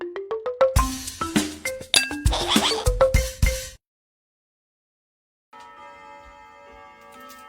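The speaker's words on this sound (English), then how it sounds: "By the chimes outside, that tells me it's time for a cocktail." Outdoor chimes ring in a quick descending run of bright metallic strikes for several seconds, then fall silent before a softer sustained tonal hum returns.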